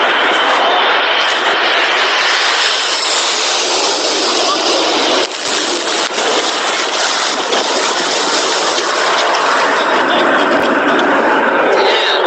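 A firefighting plane passes low overhead while dropping fire retardant on a California wildfire, a loud, continuous broadband engine roar that holds steady for several seconds.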